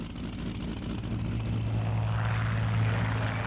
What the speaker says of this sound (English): the British hear the ominous din of German aircraft flying toward them across the English Channel